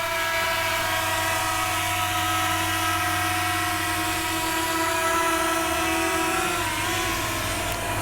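A Fimi X8 Mini drone descends to land on a driveway, its rotors giving a steady, loud, tonal whine that holds throughout with a slight pitch drift near the end; no talk.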